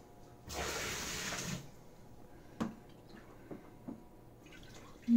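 Wrung-out towel water spilling while being measured in a quart container, a loud splashing pour for about a second followed by a few scattered drips and small knocks.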